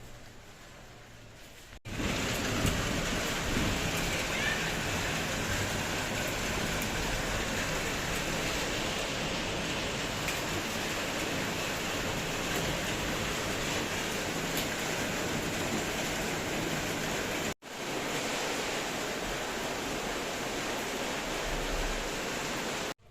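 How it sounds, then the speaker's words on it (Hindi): Heavy rain pours steadily outside as a dense, continuous hiss that cuts off briefly twice. "और बारिश बहुत तेज़ होने लग रही है बाहर।"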